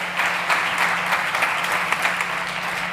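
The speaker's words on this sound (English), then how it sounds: "Folks, please give a big round of applause for Juanjo." Audience applause in a startup pitch session on a conference stage, a full room clapping in a steady, dense wash at moderate loudness, sustained throughout without talk over it.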